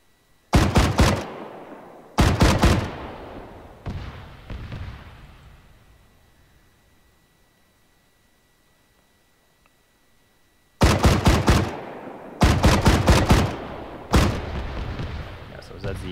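Tank cannon fire from a WWII vehicle in the video game IFA3 Arma, firing AP and HE shells: several loud, sharp blasts in clusters, the first shots fading into a long decaying rumble, then another volley of close, rapid booms.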